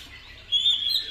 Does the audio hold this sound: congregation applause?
no